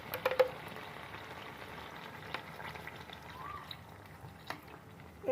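Water poured into vegetables frying in a pan for a vegetarian dish gives a soft, low sizzle and bubbling simmer, with a few sharp clinks and pops scattered over the quiet background.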